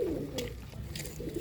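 Pigeons coo in a loft in Pandharpur, a continuous low murmur of overlapping calls with a brief higher warble near the start, steady and fairly close, with no voices over it.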